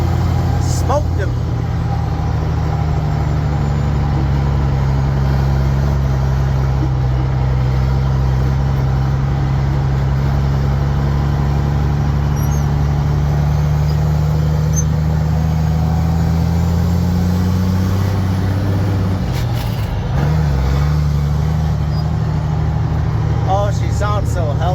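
An old, worn Mack truck engine idles at a farm corn chopping job, a loud, steady, low rumble close by, with a brief rise near the end and people talking over it.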